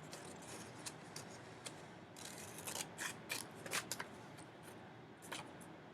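Scissors cut through paper in a quiet series of crisp snips and rustles, irregular and close, as the paper is turned while cutting.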